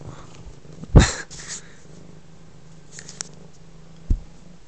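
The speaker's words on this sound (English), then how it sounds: "Purring, meowing, all that other good stuff." An F2 Savannah cat gives a loud, close meow-like cry near the start, followed by softer vocal bursts and a faint low purr running underneath a quiet room.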